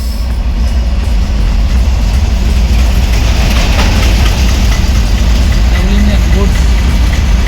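A double-engine goods train passes close by with a constant heavy rumble and roar, while people nearby talk over it.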